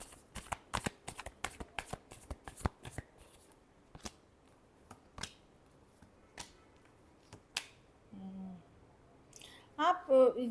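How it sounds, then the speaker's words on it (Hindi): Tarot cards are given a final shuffle, a quick run of sharp riffling snaps that slows into sparse flicks and is followed by brief talking at the end. "Last shuffle."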